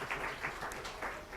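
Faint applause from an audience at a University of Tennessee, Knoxville communication college event, a soft, steady patter of clapping heard from a distance for a brief moment.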